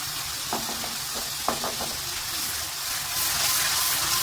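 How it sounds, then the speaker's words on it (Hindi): Onions fry in a pan over high heat, a continuous broad sizzle with a few light clinks of a utensil early on, the hiss swelling slightly toward the end. "तेज़ आंच पे आपने इसको अच्छी तरह जो है वो फ्राई कर लेना है प्याज को"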